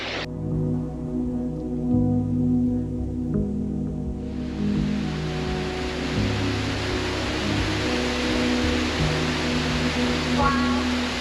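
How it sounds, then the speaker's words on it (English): The Kanarra Falls waterfall in a Utah slot canyon hisses as a broad, steady rush of falling water, coming in suddenly a few seconds in and continuing loud and unbroken. "I think the waterfall's right up here."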